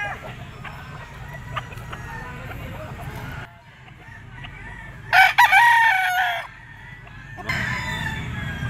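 Roosters crow and hens cluck at a chicken market, with a loud, close crow rising out of a murmur of market chatter and birds, then more background voices after it.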